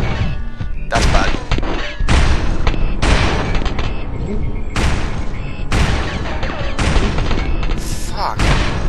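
Shredder gun firing in the video game Turok 2: Seeds of Evil, loud heavy blasts repeating roughly once a second with booming impacts and crashes between them, continuous and close.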